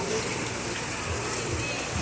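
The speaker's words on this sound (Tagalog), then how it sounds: "umuulan-ulan sa palengke" Rain falls at an outdoor public market, a dense, steady hiss of drops on surfaces throughout.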